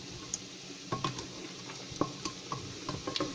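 Peas frying in a pan over a full flame, a soft steady sizzle with scattered clicks and scrapes of stirring, quiet and close, no talking.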